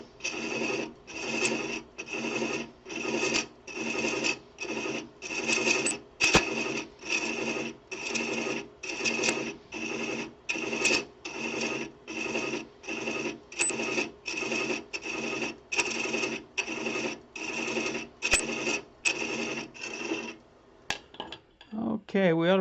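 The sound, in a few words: hand chasing threads on woodturning lathe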